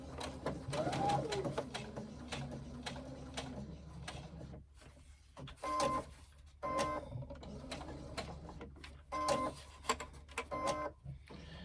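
Sewing machine stitching around a box shape on a crossbody bag, running in several short bursts separated by pauses, close and moderately loud.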